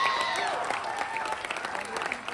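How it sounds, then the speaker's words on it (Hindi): Audience at a Bihar Diwas celebration at Chandigarh University gives a theatre performer loud applause, dense clapping from a crowd with faint voices mixed in. "सुमित भैया के लिए एक बार जोरदार तालियां हो जाए"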